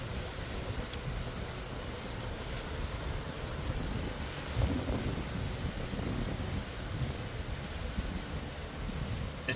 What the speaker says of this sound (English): It's getting windier and windier.